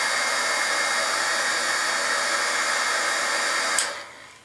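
A heat tool blows steadily at close range, warming embossing paste on a DIY stencil until it bubbles, then cuts off abruptly near the end, with no voices.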